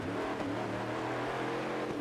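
A sprint car engine in World of Outlaws 24 at Grant Park Speedway revs in a steady, loud, sustained drone, holding close and continuous for a couple of seconds with no talking.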